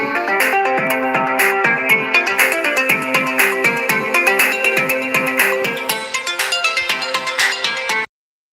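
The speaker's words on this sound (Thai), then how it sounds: "ดีว่ามีสายเข้าเนาะ" A phone rings with an incoming call, playing a bright, looping melodic ringtone loudly and continuously for about eight seconds before cutting off abruptly, with no talking over it.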